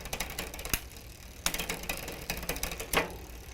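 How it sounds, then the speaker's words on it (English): A Huffy bicycle chain rubs against the rear sprocket cassette while the derailleur is being adjusted, producing close, rapid, rhythmic ratcheting clicks in uneven bursts as the cranks turn. "I can hear a lot of noise coming from the chain rubbing against the sprocket or the cassette there"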